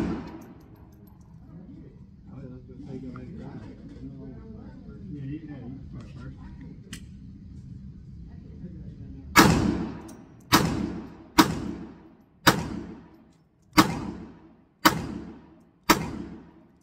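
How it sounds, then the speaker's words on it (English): Shots from a 1990s Hi-Point .380 pistol at a range, seven sharp loud reports spaced about a second apart, each with a short ringing decay. Talk comes before the firing starts. "First 8 rounds down."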